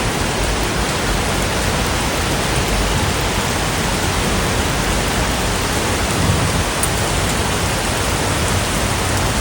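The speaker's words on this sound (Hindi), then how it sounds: "बारिश हो रही है बहुत तेज, ये देखो माही बाहर खड़ी हुई है।" Heavy rain pours down outdoors as a loud, dense, unbroken roar that keeps the same level throughout.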